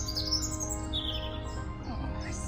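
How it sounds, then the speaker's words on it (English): Birds chirp and tweet intermittently at a moderate distance over the constant low engine rumble of a narrowboat. "So nice to hear the birds."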